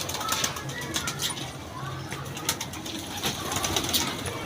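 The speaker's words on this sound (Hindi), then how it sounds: "ये पुराने कबूतर है मेरे" Pigeons kept in a loft, a flock of old birds, cooing and fluttering nearby amid steady outdoor background noise, with soft wing flaps and scattered calls throughout.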